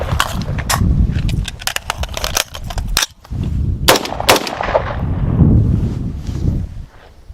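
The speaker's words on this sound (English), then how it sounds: "the emergency reload is when the gun is run dry and we need to give it new rounds as quickly as possible to stay in the fight" Rifle fired in repeated sharp, loud shots, several quick bursts, then a short gap for an emergency reload before firing resumes, with outdoor wind rumble underneath.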